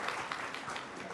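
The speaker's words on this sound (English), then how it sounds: "Can we have a round of applause," Brief, faint wash of audience applause at an India Today Conclave interview session, a dense soft patter of many hands heard from a distance.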